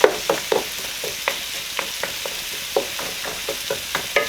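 Meatballs frying in a pan produce a continuous sizzle, dotted with regular sharp pops and spatters at close range, with no voices.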